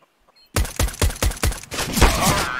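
Rapid pistol gunshots ring out in the CS:GO video game, six or seven sharp close cracks in quick succession followed by a ringing, echoing tail.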